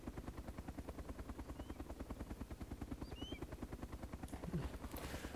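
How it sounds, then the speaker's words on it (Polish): A helicopter in the video game DayZ, its rotor beating in a fast, steady chop that holds at constant loudness throughout, heard alone without talk. "Stary, co tam jest? Helikopter."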